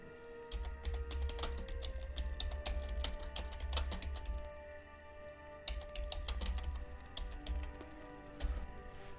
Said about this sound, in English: dodgy typing as ever.